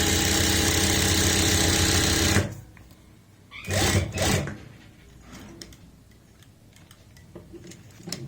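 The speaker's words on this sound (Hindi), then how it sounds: "अब फिर से हम इस साइड में सिलाई लगाएंगे।" A sewing machine stitches the collar of a women's kurti, running in a loud, steady mechanical whir for about two and a half seconds before stopping, followed by quieter handling noises and faint clicks.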